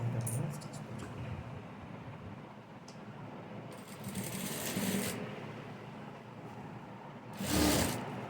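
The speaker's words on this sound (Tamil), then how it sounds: "ஜாயின் பண்ணி அதுக்கப்புறம் ஸ்டிச் போட்டுக்கணும்." A sewing machine stitches a blouse sleeve with a fast, steady mechanical whir under a low hum, and brief louder rattles break in near the end.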